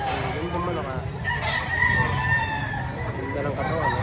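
A rooster crows amid the din of a busy gamefowl market in Lipa, Batangas, with continuous background chatter and other birds around; the crow rises moderately loud over the crowd noise.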